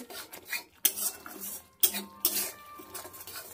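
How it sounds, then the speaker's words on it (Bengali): Spices, including cumin and poppy seed, are stirred and sautéed in a pan over a medium gas flame, heard as repeated scraping strokes of a spatula against the metal with short pauses between them. "গ্যাসটাকে মিডিয়ামে রেখে সব মশলাটাকে ভালো করে নেড়ে কষিয়ে নেব"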